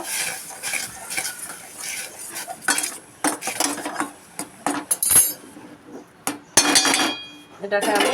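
Semolina is stirred into hot water to form a dough for potato suji fingers, with loud metallic scraping and clinking of a spoon against the pot at an irregular pace, close up, while a voice speaks briefly.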